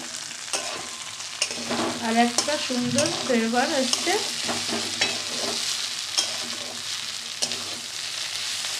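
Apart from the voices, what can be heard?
frying flat beans with shrimp in oil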